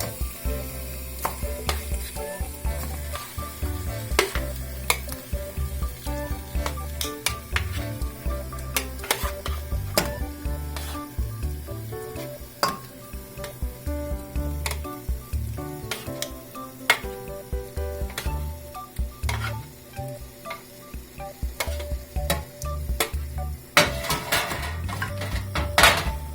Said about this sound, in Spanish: Primeramente vamos a poner a cocer nuestra carne